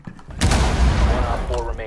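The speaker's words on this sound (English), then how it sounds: "I blew up the floor." A floor blown apart by an explosive breach in the tactical shooter Rainbow Six Siege, a loud, close blast with a heavy low rumble that fills the moment, followed by crackling debris, with voices talking over it.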